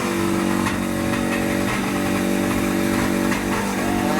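Yamaha jet ski engine running after repair, a continuous close droning hum with small rev fluctuations, loud and steady with no talk.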